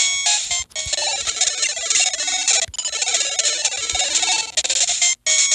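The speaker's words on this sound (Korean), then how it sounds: "이렇게 독이 걸리면은 요렇게 돼요. 삐삐삐삑 소리가 계속 나죠?" A Pokémon game plays a dense, loud stream of electronic beeps and chiptune tones from the poison status effect, continuous with only brief breaks.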